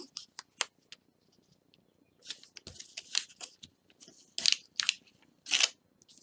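Purple masking tape torn from the roll and pressed down, heard as a string of sharp, close crackling rips and short tearing bursts with quiet gaps between them, no talking.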